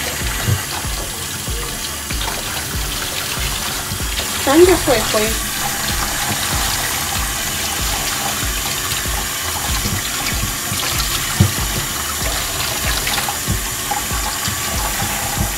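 Steady running water pours from a tap while hair is rinsed during a home hair wash, a loud continuous splashing rush with brief louder splashes, and a person speaks briefly over it.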